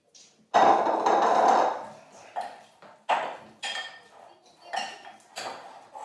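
A spoon mixing a meatball mixture with flour in a bowl, producing loud close scraping bursts followed by irregular clinks and knocks of metal against the bowl, with no talking.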